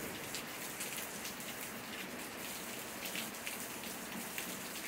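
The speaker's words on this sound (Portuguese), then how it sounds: "Bastante chuva hoje, viu?" Steady rain falls on rural northeastern Brazilian countryside, a dense even hiss of drops pattering on surfaces with no break or voices.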